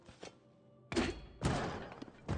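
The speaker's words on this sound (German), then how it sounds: "dann macht's Peng, wenn ich da drauf hau" Striking an object in Zelda Tears of the Kingdom, a few sharp thuds and thunks: a faint knock, then two loud impacts half a second apart with brief rattling tails, without talk.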